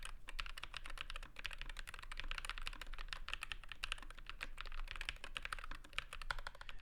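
Steady, rapid typing on a mechanical keyboard with smooth linear red switches, a continuous stream of soft, even clacks up close with no talking.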